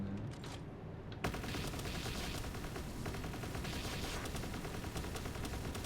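Continuous heavy gunfire while shooting enemies in a video game, a dense unbroken stream of rapid shots filling the whole stretch, fairly loud and steady with no talking.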